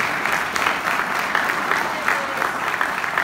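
A church congregation applauding, steady dense clapping from many hands that fills the room for a few seconds with no talking over it.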